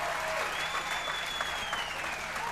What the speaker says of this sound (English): these girls deserve one more big ass round of applause